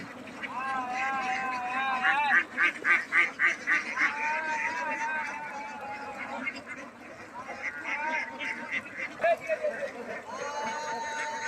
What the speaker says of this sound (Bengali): হাঁসের গমগম আয়োজন, আওয়াজ মুখরিত করে আছে